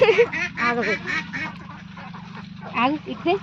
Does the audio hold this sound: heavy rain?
no